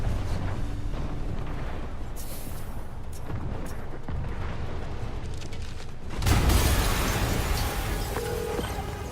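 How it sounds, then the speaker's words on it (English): An explosion in the Marvel's Spider-Man PS4 game during the Kingpin boss fight opening: low rumbling noise builds, then a heavy blast hits around six seconds and rolls on as a dense, loud roar. "an explosion just..."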